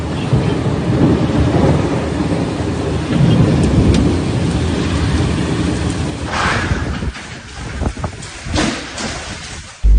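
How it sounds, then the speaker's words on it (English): Heavy rain pours steadily during a thunderstorm in Mecca, Saudi Arabia, with deep rumbling thunder rolling beneath the downpour and a few sharp crackles and splashes near the end. "Heavy rain fell on Tuesday evening, accompanied by thunderstorms in separate areas of the Makkah al-Mukarramah neighborhood"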